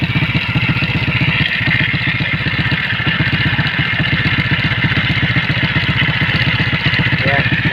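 Euro 110 motorcycle engine with a cleaned carburetor idles close by, its fast steady pulsing joined by a metallic timing chain rattle. Someone talks over it.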